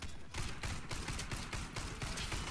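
Rapid pistol fire from the compact MP 443 Grach sidearm in the shooter game Warface, a dense run of sharp, close shots filling the whole stretch at a steady quick cadence.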